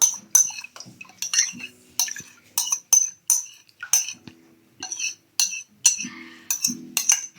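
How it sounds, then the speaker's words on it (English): A spoon stirs yogurt into a pot of milk, knocking and clinking against the pot in rapid, regular strokes with short pauses between bursts, close and clear. "I'm just stirring it in."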